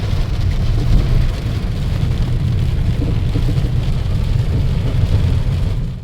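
Steady heavy rain roars continuously, with a deep rumbling wash underneath and no voices.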